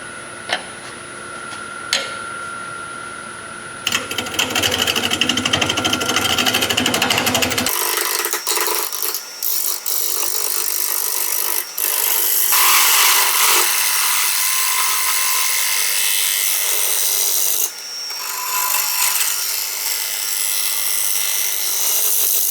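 Honey locust wood on a spinning lathe, turned as a natural-edge piece, a steady whirring hum with scraping and cutting tool noise that shifts in pitch and intensity, plus occasional clicks.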